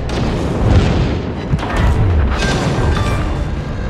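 Naval video game explosion as an enemy destroyer sinks: dense, sustained booming rumble with several heavier low thuds over about four seconds, loud and continuous, no talk.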